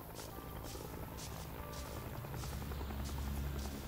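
A helicopter in the Vietnam War shooter game Rising Storm 2: Vietnam thrums with steady rotor chop and a whining buzz, continuous and fairly close throughout, with no talk over it.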